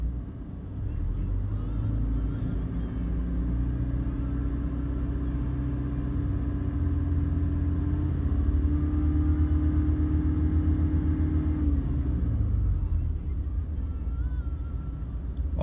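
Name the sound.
1GD diesel engine being revved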